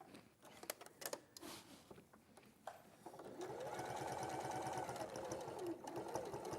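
A sewing machine stitching a jacket hem, with a few handling knocks and clicks first, then a steady, even motor whirr with a rapid needle rhythm running for several seconds, fairly quiet.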